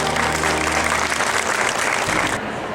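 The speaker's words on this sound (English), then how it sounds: "So give yourselves a round of applause." Award-winning authors at a literary book awards ceremony give themselves a round of applause, a dense and loud burst of clapping that stays full before thinning abruptly near the end.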